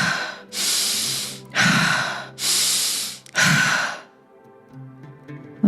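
Slow breathing during a breathwork exercise: four long, loud, airy breaths in and out, close to the listener, evenly paced, followed by quiet.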